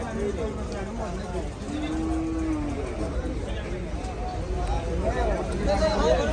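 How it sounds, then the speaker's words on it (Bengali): A cow moos once in a drawn-out low call amid a busy Gabtoli cattle market, with people chattering close by and steady crowd noise throughout. "সুন্দর আছে গরুটা"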